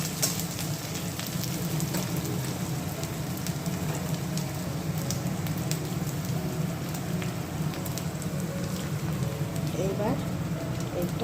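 Dried chilli, a green chilli, cumin, panch phoron and grated ginger crackle in hot oil, a soft continuous sizzle with scattered pops, fairly quiet and close.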